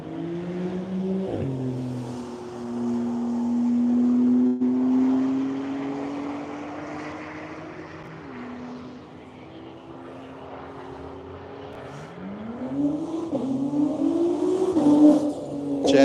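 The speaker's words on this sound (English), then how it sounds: "JD Kroll taking off" Race cars at the Tire Rack One Lap of America event at Hedge Hollow leave the start line one after another, engines revving and rising in pitch as they pull away, with a second car accelerating loudly toward the end. No one talks.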